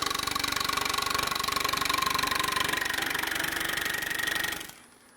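Wood lathe turning a winged bowl while cuts are taken, a loud steady whirring drone with a rapid fluttering texture that cuts off abruptly near the end.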